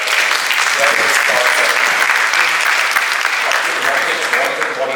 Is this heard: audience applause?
yes